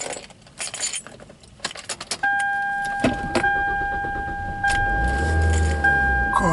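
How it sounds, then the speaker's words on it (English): Car keys jangle for a couple of seconds, then steady electronic chime tones sound and the car's engine cranks and catches at mid-clip, settling into a low, close idle beneath the continuing chimes. "I'm going to start the car."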